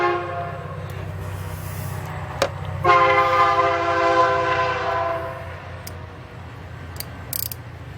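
A train passes nearby with a drawn-out multi-tone horn blast over a steady low rumble of rail cars, heard during a Dodge Dakota alternator replacement; the horn swells and fades while the rolling drone continues.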